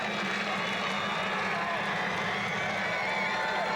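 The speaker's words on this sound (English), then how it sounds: "and Centennial's clapping" Spectators at the 2003 Pueblo Central versus Centennial Bell Game, a high school football match, clap and cheer in a dense, continuous wash of crowd noise, with voices mixed in.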